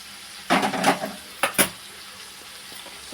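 Dry-roasted oats tipped into a pan and stirred, a short run of dry rustling, scraping strokes followed by two quick scrapes, then quieter faint clinks, close up with no talking.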